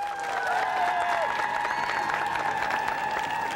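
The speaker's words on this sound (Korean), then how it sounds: "다시 한번 큰 박수 쳐주십시오" Studio audience at a KBS variety show with an obstacle-course competition applauds steadily and loudly, a dense continuous clatter of clapping with some crowd voices mixed in.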